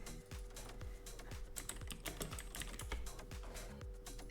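Someone types on a computer keyboard during a gaming session, with quiet, rapid, irregular key clicks close to the microphone.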